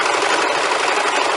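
A sewing machine runs steadily as it stitches a fabric hair scrunchie, including a short back stitch to lock the seam. The close, continuous mechanical whir plays on its own with no talk.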